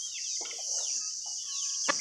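A Pakhoy breed rooster gives a few soft, short clucks close by over a steady high-pitched background hum.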